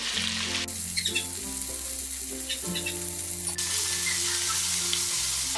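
Sliced onion, ginger and green chili sauté in hot oil for a masala dosa filling, giving a steady, close sizzle with soft stirring scrapes and a constant low hum underneath.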